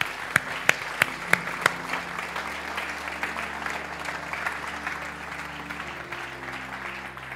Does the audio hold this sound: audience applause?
yes